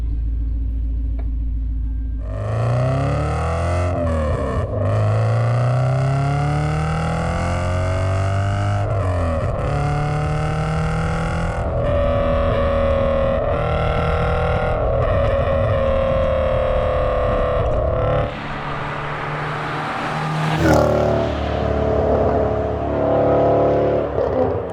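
Audi S6 Plus Avant engine rumbling from inside the car while driving, with rising and falling revs as it accelerates and shifts through gears, a steady loud drone throughout.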